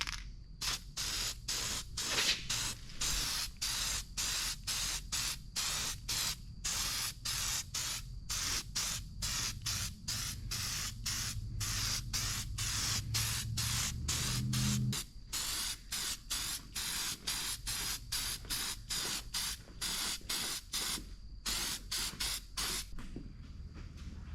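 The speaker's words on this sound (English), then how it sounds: "I'm gonna spray them down with some copper spray gasket." Rapid bursts of copper gasket aerosol spray hiss again and again in short, even pulses, close up, with a brief pause partway through.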